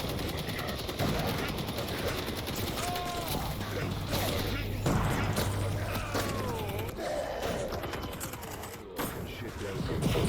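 In a retro FPS-style Smash Bros game, a weapon's alt fire chatters in rapid bursts like machine-gun shots over busy game sounds, with a voice talking over it.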